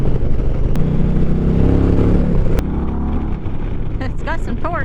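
A 2024 Indian Challenger Dark Horse motorcycle rumbles steadily while riding two-up, with continuous engine and wind noise throughout and a brief rise near the end; someone talks over it.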